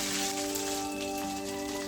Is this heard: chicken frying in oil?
yes